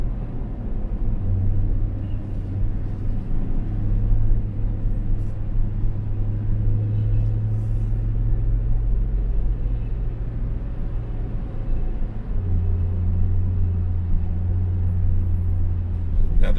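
A car drives up the Scenic Highway on Lookout Mountain, Tennessee, its engine a steady low rumble with a sustained droning hum and road noise inside the cabin, even and continuous with no talk.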